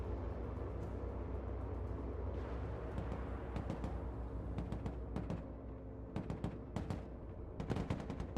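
Gunfire in the military strategy game Broken Arrow, sustained bursts of machine-gun fire and scattered shots crackling over a low rumbling battle backdrop, growing sharper and denser toward the end.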